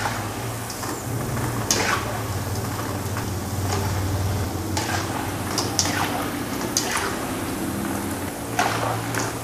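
Small balls of chicken-egg batter fry in a pan as they are stirred and turned, giving a steady close sizzle with scattered sharp scrapes and clicks from the stirring.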